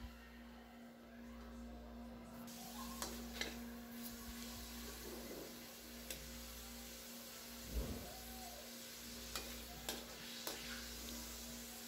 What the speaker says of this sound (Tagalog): sinisimulan ko na pong mag stir fry